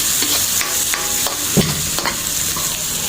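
Onion sizzles in a hot pan while buttered shrimp is being cooked, with a bright, steady hiss broken by several sharp clicks and scrapes of stirring. It is close and loud, with no talking.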